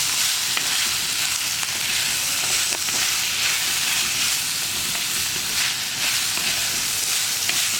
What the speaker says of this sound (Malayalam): ഇനി ഇതെല്ലാം ചേർത്ത് ഒന്ന് വഴറ്റിയെടുക്കുക.